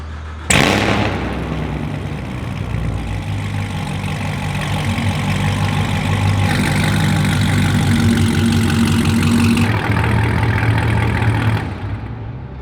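A Chevrolet Camaro engine fires up with a sharp burst inside a shop, then settles into a loud, steady, rumbling idle that holds for about ten seconds before cutting off abruptly.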